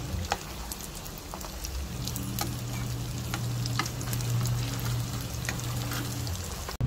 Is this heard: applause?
no